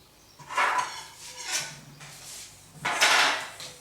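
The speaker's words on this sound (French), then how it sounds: "Et on touille." A spoon stirs sugar, flour and baking powder together in a mixing bowl for a cake, giving three loud scraping sweeps with quieter gaps between them, close up and without speech.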